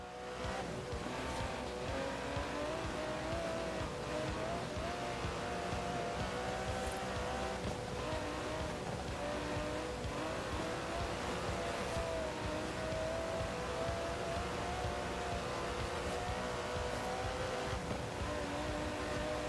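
Aston Martin DB11 with a 5.2-litre twin-turbo V12 racing in Forza Horizon 4, a steady loud engine drone with shifting tones and occasional tire squeal, continuous throughout with no talking.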